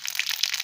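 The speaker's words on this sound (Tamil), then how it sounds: "ஸோ எண்ணெய் காஞ்செடுத்து கடுகு போட்டுக்கிறேன்," Mustard seeds hit hot coconut oil in a pan, giving a brief burst of close, crackling sizzle with small pops scattered through it.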